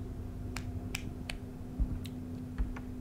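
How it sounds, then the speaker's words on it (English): Sharp, isolated claps sound in a horror video game, about seven faint snaps at irregular intervals over a low, constant hum. "It sounds like someone's clapping."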